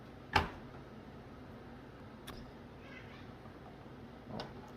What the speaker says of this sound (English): Oh, cat's found something